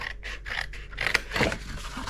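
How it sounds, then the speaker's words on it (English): Scissors cutting into a swatch chart page among adult coloring art supplies, a few crisp close snips and scrapes in quick succession, no talking. "let me just see if I can just cut with the scissors here"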